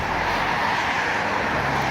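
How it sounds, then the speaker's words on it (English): Steady street traffic noise, a continuous broadband roar of passing vehicles, fills the whole short stretch at moderate loudness with no voices. "it's gonna be a little loud with all this traffic noise"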